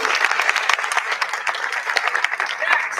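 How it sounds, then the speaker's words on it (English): An audience at a nursing school lamp-lighting ceremony claps in a dense, steady burst of applause lasting several seconds, with voices mixed into the clapping. "a big round of applause for yourselves because you made it through"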